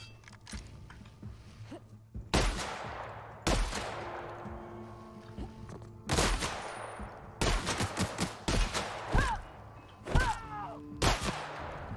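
A gun in a video game fires in short separate bursts of sharp, loud cracks with quiet gaps between them, some shots coming in quick clusters over faint background ambience.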